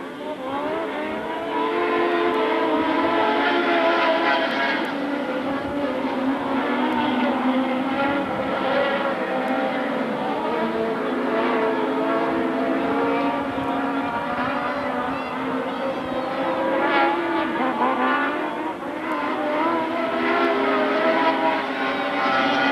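Dirt track race cars roaring together at Magic City Speedway in Billings, Montana, a loud, steady engine drone that holds throughout with no break.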